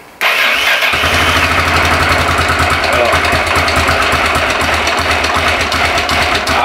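A Yamaha motorcycle engine with choke applied cranks and catches, then settles into a loud, steady, rapid idle close by.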